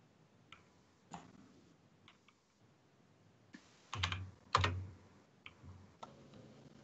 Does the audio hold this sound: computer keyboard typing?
yes